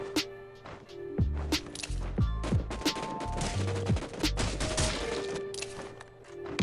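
A new gun fired on full auto in the Rules of Survival shooter game, with rapid bursts of close, punchy gunshots in quick succession, broken by short pauses.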